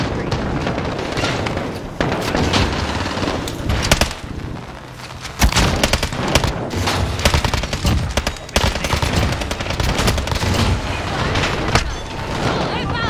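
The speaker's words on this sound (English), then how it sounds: "I'm taking fire!" Dense bursts of incoming automatic gunfire and scattered booms in a Call of Duty Warzone co-op mission, loud rapid crackling volleys throughout, with voices calling out over the shooting.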